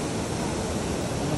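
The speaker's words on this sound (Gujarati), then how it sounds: "वॉटरफॉल" Glacier meltwater crashes down a waterfall in Mussoorie, Uttarakhand, producing a loud, constant, close-up roar of rushing water with no pauses.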